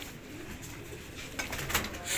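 Pigeons coo at Ustad Abid Jutt's loft, a low continuous burble of several birds, rising briefly louder near the end with a few sharper sounds over the ambience.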